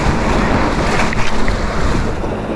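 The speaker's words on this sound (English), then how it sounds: "The wind's blowing pretty tough today, man, from the east." Strong east wind at a fishing pier roars steadily into the microphone, a loud continuous rush with waves churning beneath it, no voices.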